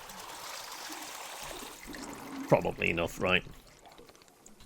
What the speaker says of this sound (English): Pour water into the orb.